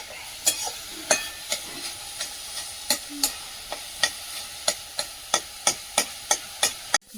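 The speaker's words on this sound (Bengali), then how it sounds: "দারুণ হয়েছে শাক ভাজা, সেন উঠছে, নামিয়ে দাও।" Leafy greens sizzle steadily in a pan while a spatula taps the pan in a quick, regular rhythm, a dozen or so sharp knocks, close by.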